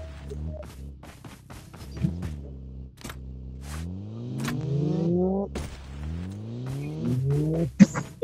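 A four-seat car drives in Call of Duty Blackout, its engine note rising and falling in revving sweeps, moderately loud, with sharp clicks and short bursts of other game sounds.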